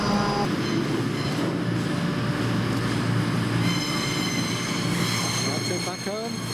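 A train pulls into a station platform at close range with a steady rumble and rolling wheel noise, and a brief wheel squeal rises near the end.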